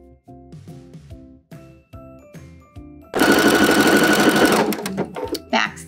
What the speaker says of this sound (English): So let's go ahead and sew the casing up.